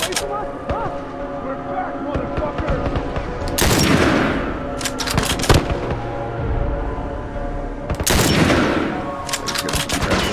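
Game gunfire from The Last of Us, with dense bursts of shots and loud blasts around the fourth and eighth seconds, heard under and between a couple talking over a constant background bed.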